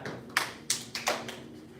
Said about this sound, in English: Step back, open, step forward, and clap.